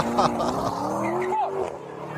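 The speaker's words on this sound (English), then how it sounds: "Then Pearce speeds away through the Miami suburb." A Lamborghini speeds off through a Miami suburb, its engine droning with rising pitch and a brief tire squeal, heard under a voice talking over it.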